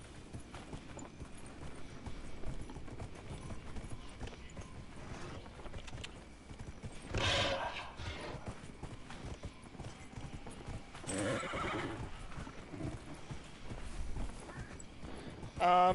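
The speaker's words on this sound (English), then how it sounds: "Oh, I didn't realize that I had the creepy horse equipped." Hoofbeats clip-clop steadily from a spectral horse mount in a fantasy role-playing game, with a couple of louder whinny-like bursts rising over a continuous game ambience.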